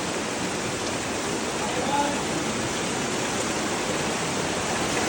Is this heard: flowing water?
yes